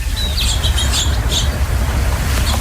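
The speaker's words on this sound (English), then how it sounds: "Perez, who has sent us an audio card about some pretty cool birds she's watching from a window at her home" Birds at feeders outside a home window in San Diego, Southern California, chirping and tweeting in short bright bursts over a low steady background rumble, fairly close and clear.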